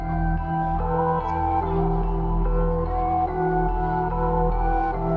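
A dark, moody trap sample made in FL Studio plays steadily, with deep sustained bass and layered tonal chords shifting every second or so, no talking over it.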